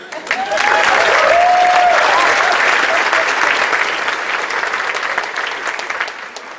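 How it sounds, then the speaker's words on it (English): Sustained, loud applause fills a theater hall at the UNDP Equator Prize 2019 award ceremony in New York's Town Hall, a dense, even roar of many hands with a faint whistle early on, fading slightly toward the end. "no, this is applause, there must be somebody else coming on stage"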